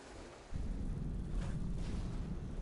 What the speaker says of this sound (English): every so often the fireworks launcher goes off on a timer